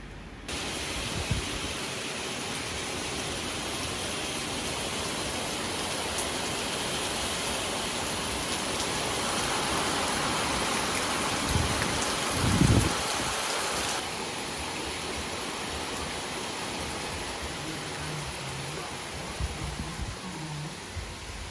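Rain falls steadily outdoors as a dense, even hiss that fills the whole stretch, with a few faint knocks and small background sounds under the constant downpour.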